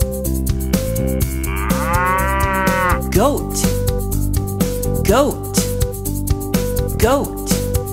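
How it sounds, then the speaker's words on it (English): A cow moos in one long, drawn-out call over a steady children's song backing with bright percussive hits, followed by a speaking voice; the moo stands out clearly in the middle of the music. "Cow, cow."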